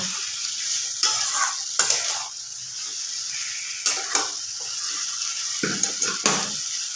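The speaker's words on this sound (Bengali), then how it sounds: "মাংসটাকে আমি এবার ভালো করে একটু কষিয়ে নেব" Chicken pieces frying in a pan over raised heat, a constant hiss of oil with several sharp scrapes and clatters as the meat is stirred, close by and uninterrupted by voices.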